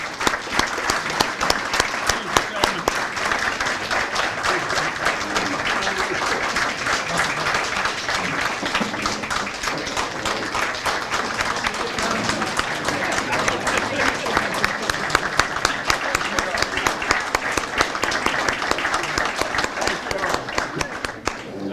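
A dinner audience applauds steadily and continuously with dense clapping, loud and close, which holds for over twenty seconds with little variation and keeps a strong, even level throughout.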